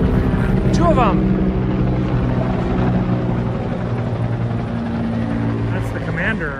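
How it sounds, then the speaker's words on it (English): Helicopters flying low over Washington, D.C., a steady loud rotor and engine drone throughout, with someone talking over it now and then. "Another helicopter coming across."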